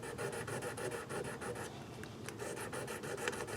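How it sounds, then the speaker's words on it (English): Fine 1200-grit sandpaper rubs lightly over the yellowed, slightly corroded frets of a B.C. Rich KKV guitar. Close, steady back-and-forth rasping strokes repeat in a quick rhythm with no talking. "I'm just taking 1200 grit sandpaper, and I'm just going over the frets really lightly"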